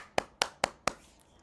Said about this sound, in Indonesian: Wah, tepuk tangan nih.